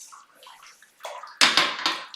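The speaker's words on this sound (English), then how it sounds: "we're just going to carry on just giving that a really big stir." A pan of sauce laced with Worcester sauce is stirred hard, giving wet sloshing and scraping that starts faint and builds into louder, broadband churning bursts near the end.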